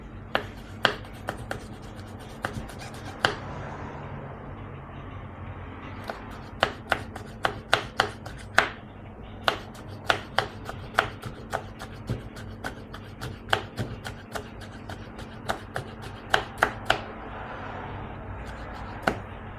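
A knife chops green chilies on a board in sharp, irregular taps, some in quick bursts and some spaced apart, close and crisp over a low background hum with no talking.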